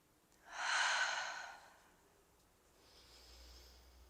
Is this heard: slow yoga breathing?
yes